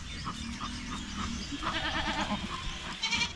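A goat on a rural Philippine farm bleats in a series of nasal, wavering calls, fairly close and loud, with other faint animal sounds and outdoor background around it.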